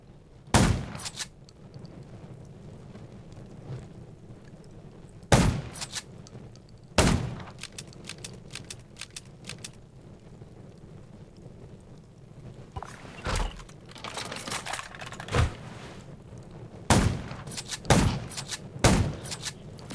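Scattered gunshots crack out at irregular intervals in the zombie video game Undawn, some in quick clusters, sharp and loud over a low background hum.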